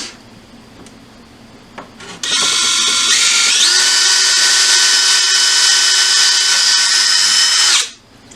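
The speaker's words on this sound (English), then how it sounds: "Make sure your drill doesn't walk on you." A power drill drilling into bone starts with a short whir, then runs at a steady, loud high-pitched whine for several seconds before spinning down; close and continuous.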